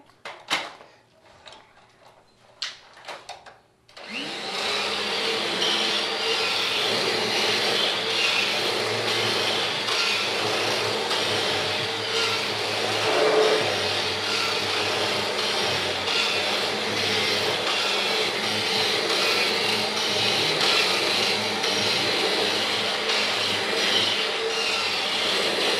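A vacuum cleaner runs steadily over carpet after a cleaning product is applied to lift greasy dirt, with a loud, continuous whoosh that starts after a few seconds of quiet handling noises.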